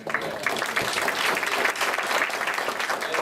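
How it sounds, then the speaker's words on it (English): Audience applause at an energy startup event, a full, even roar of many hands clapping from a crowd, sustained at steady loudness for a few seconds with no speech. "Let's give a big round of applause to Armando also."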